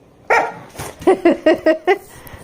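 A dog at a campground lets out a burst of close, loud barks, several short yips in a quick run after an opening bark.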